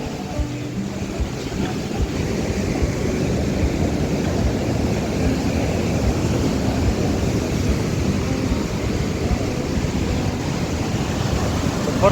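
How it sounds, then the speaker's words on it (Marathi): Ocean waves break and wash continuously along Juhu Beach in Mumbai, a steady broad roar of surf with some wind noise, no voices standing out. "जबरदस्त लाट आहे, जबरदस्त."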